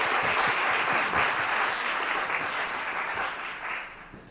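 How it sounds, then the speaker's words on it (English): An audience at a gallery event applauds, a dense wash of many hands clapping that holds steady, then slowly thins and fades toward the end. "So if we could all give a round of applause to get the event kicked off."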